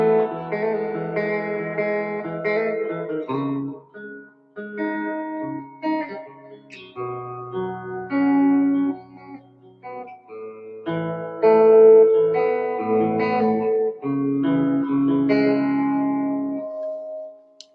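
An electric guitar plays slow, clean melodic phrases and chords through a Fender tube amp with built-in reverb, notes ringing out and decaying between pauses, no talking.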